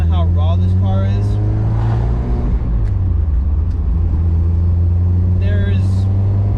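A Mazda Miata driving along, its steady low engine drone and road rumble filling the cabin continuously, with a voice talking briefly at the start and again near the end.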